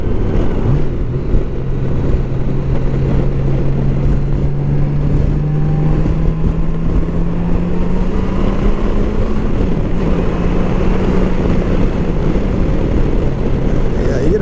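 A 2020 Honda Goldwing motorcycle engine drones smoothly and steadily while riding, a low continuous hum rising slightly in pitch as it pulls, with road and wind rush throughout and no talk.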